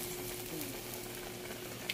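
Broth boils over in a pot on a charcoal-fired stove, giving a steady, fairly quiet hiss and bubbling sizzle that continues throughout.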